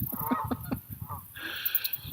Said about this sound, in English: You can hear some geese honking here in the back.